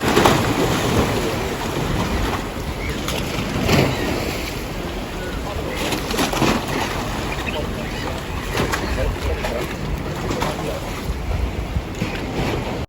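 Steady cold wind buffets the microphone in gusts by the sea near London, a broad rushing roar with faint surf underneath, continuing throughout.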